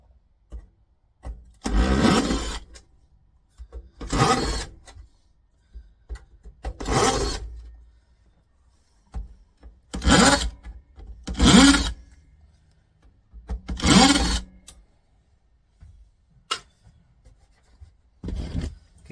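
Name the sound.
unscrewing screws from Kenwood stereo base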